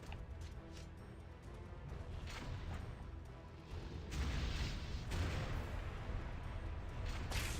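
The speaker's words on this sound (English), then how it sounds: "How are these explosions making it here?" Explosions in the video game Ninja Gaiden 2 boom and crash repeatedly, loud bursts layered over a constant rumbling din, with heavier blasts toward the end and no talking.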